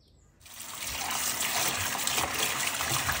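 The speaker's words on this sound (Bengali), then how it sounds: "এখন পাতাগুলোকে খুব ভালোভাবে জল দিয়ে পরিষ্কার করে ধুয়ে নিতে হবে" Bottle gourd leaves rinsed under running water: after a brief quiet moment, a steady, close splashing flow starts and continues evenly to the end.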